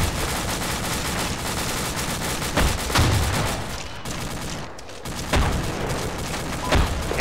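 Gunfire in the military game Arma 2 crackles near a bridge in a street battle, with dense rattling bursts and a few heavier hits that come and go over a constant noisy din.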